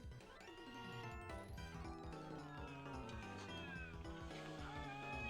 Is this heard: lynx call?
yes